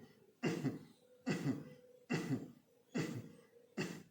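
Five evenly spaced, sharp coughs made with the mouth closed as a kapalbhati yoga breathing exercise come about a second apart, close and fairly quiet, with no talk between them.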